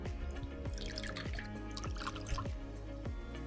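Bulleit rye whiskey pours into a glass for an Old Fashioned, a soft continuous liquid trickle with small irregular drips and gurgles, quiet and close.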